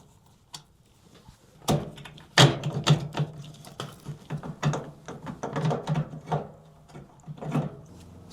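Hex bit driver loosening a star hex nut on the valve of a leaking Whirlpool Duet washer, giving a run of close clicks, knocks and ratcheting taps with tool handling.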